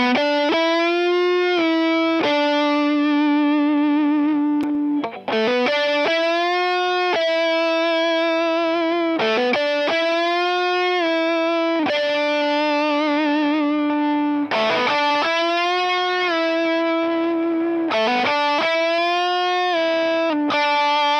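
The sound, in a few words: PRS Hollowbody II electric guitar played with distortion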